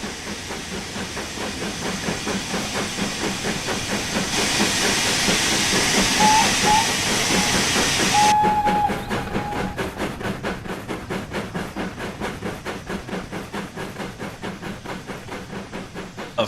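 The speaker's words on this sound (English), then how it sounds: "Of course, the safety valve goes off right when the train gets to us." A 4F steam locomotive in Train Sim World 3 blows off its safety valve, a loud steady roaring hiss that swells for several seconds and then cuts back, over the rhythmic chuff and clatter of the passing train.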